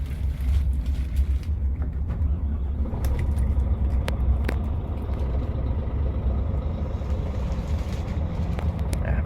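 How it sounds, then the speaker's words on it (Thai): Steady low engine rumble of a 2022 Scania P 410 6x2 truck idling close by, with a few faint clicks and ticks over the continuous drone. "เอาละเดี๋ยวเราจะมาจัดสตาร์ทกันนะครับ"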